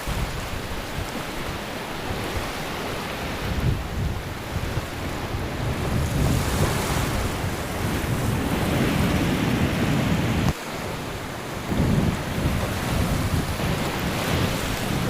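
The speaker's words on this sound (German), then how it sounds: "wenn sich die Wellen hier an den Klippen brechen" Heavy surf crashes and churns continuously against cliffs in Mauritius, a deep rumbling roar of breaking waves mixed with gusty wind noise, loud and close, with no voices.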